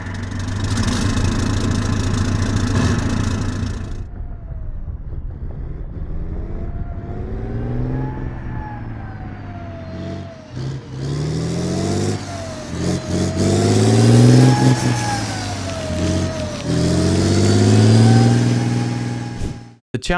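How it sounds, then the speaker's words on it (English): Challenger tank diesel engine in the Squad military game, a deep rumbling drone that idles, then repeatedly revs up and down in rising and falling surges, loud and close throughout. "Unlike the Abrams, the Challenger sports a diesel engine, which is still notable to hear on the battlefield."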